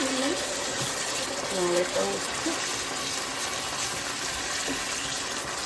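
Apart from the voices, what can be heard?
water added to a pan of cooking sloppy joe mix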